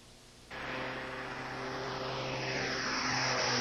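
Aircraft airlifting a critically ill child to a pediatric intensive care unit: a steady propeller-engine drone cuts in abruptly after a half-second of quiet and holds loud and close, slowly swelling over the remaining few seconds.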